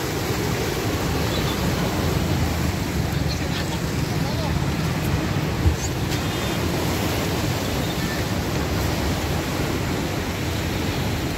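Floodwater on the Indrayani river at Alandi rushes against a bridge in a steady, dense roar of turbulent water, continuous and close, with no pause.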